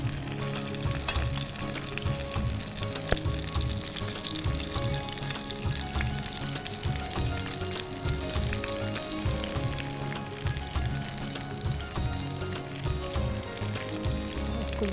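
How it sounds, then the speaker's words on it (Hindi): Garlic chicken frying in a pan, a continuous close sizzle and crackle of hot oil that stays even and fairly loud throughout, with no talk over it. "अभी हमारा जो गार्लिक चिकन है वो फ्राई हो रहा है"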